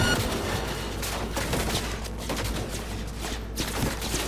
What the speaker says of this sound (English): That seems like a turret.